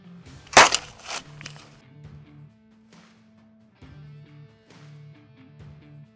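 A single sharp bang from a blank cartridge set off by a mousetrap rings out near the start, loud and close, followed by quieter clattering and a faint lingering hum.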